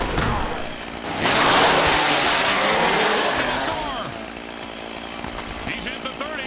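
Loud chainsaw-style engine roar used as a sound effect during a football game broadcast, surging in after a second and sustained over several seconds beneath crowd and broadcast noise, then easing off.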